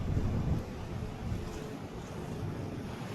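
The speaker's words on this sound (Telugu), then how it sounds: "అలలు," Ocean waves wash onto a Maui beach near a resort in a steady, rumbling roar, heavier at the start, mixed with wind buffeting the microphone and no talk.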